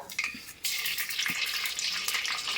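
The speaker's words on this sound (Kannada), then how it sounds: "ಎಣ್ಣೆ ಬಿಸಿ ಆದಮೇಲೆ ಸಾಸಿವೆ ಹಾಕೊತಾ ಇದ್ದಾರೆ" Mustard seeds dropped into hot oil for a Huli Sambar tempering, giving a steady close crackling sizzle with brief pops, loud and continuous throughout, with no voices.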